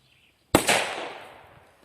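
A MINI DUM BUM P4B firecracker goes off outdoors with one sharp, loud bang and a quick second crack, followed by a long, fading echo; no voices are heard.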